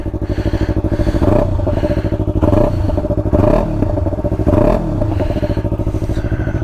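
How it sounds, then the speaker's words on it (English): A motorcycle fitted with an Akrapovic GP exhaust revs loudly and close up, its deep, throaty idle rising into several rhythmic blips of the throttle that fall back each time. "highly recommend this Akrapovic GP exhaust"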